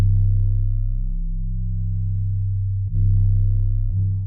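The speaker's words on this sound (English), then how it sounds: "I also have this 808 is just playing one note." A sustained 808 bass holds a single deep, booming note in a jerk drill remix beat, loud and steady, with a brief dip and retrigger near the end; no one talks over it.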